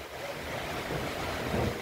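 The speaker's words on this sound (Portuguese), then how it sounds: "Muita chuva e muito vento." Heavy rain driven by strong wind in Santana do Ipanema, Alagoas, a dense, steady roar of wind and rain buffeting the microphone, fairly faint, with no talking.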